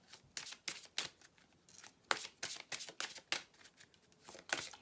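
Tarot cards are shuffled by hand, producing a steady run of soft, crisp riffling swishes at close range, repeating in quick bursts with brief gaps and no talking.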